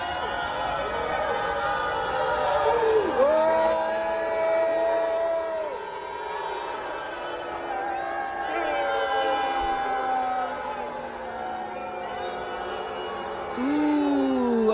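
A protest crowd boos police with several drawn-out, wavering voices rising over a background of crowd chatter and shouting.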